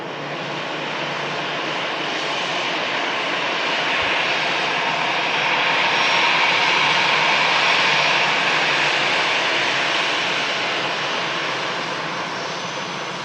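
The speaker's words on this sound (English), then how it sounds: "Hear that throttle just spooling down there on the EasyJet aircraft." An EasyJet jet airliner's engines at Manchester Airport roar steadily as thrust winds down toward idle, a broad, loud rushing hum that swells gently mid-way and then eases slightly.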